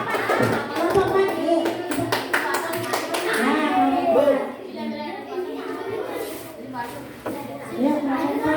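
Classroom children clap for group 4, a scattered run of hand claps mixed with lively kids' chatter and voices throughout.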